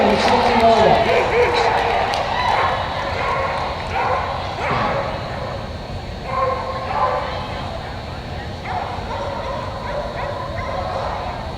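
A Border Collie at a UKI US Open speedstakes dog agility event, sharp repeated barks and yips with scrambling paw patter, heard under busy arena chatter and an announcer's voice.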